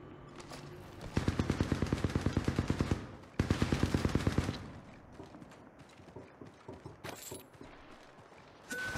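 Gunfire in Apex Legends comes in two loud rapid automatic bursts of evenly spaced shots, followed by scattered shots, clicks and mechanical handling noises.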